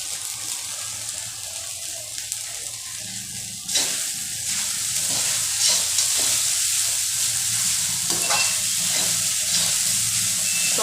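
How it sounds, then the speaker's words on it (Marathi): Sabudana (soaked tapioca pearls) stir-fried in a pan over medium gas for khichdi, a steady close sizzle with scraping stirs and occasional louder bursts as the pearls are turned, no voices. "मीडियम गॅसवर 3 ते 4 मिनिटं साबुदाणा परतवायचा आहे"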